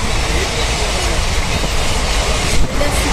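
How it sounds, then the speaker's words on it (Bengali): A passenger train rolls along the rails in a loud, continuous rumble heard from inside the carriage, with steady broadband wheel noise and a brief swell near the end. "আমরা সবাই ট্রেনে উঠে পড়েছি।"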